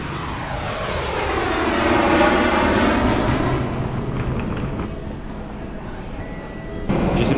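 An airplane's engine roars loud and close with a steady, droning whine before boarding a flight to Melbourne, continuing throughout with no pause.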